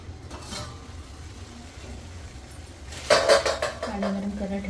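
A metal sieve is set into a pot of heating water, a quiet stretch giving way to a burst of clanking and scraping metal on metal, close by, with a faint hum beneath.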